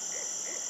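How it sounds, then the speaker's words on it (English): Two soft, short owl hoots a moment apart during a Florida turkey hunt, heard over a steady high-pitched background drone. "Dang owl, the dang owl heard me"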